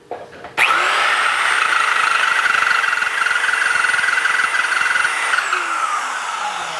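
A Rems Cento pipe cutter deburring the inside of a freshly cut pipe gives a loud, steady high-pitched whirring grind that starts abruptly, holds close and even, then winds down slightly at the end.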